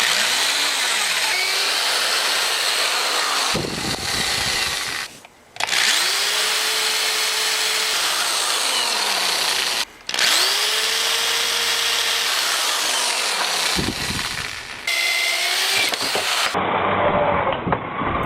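A power drill bores into the fiberglass handle of a rusty hammer, its motor whining steadily in long runs. Brief pauses break the sound, and the pitch sags and recovers as the bit loads up.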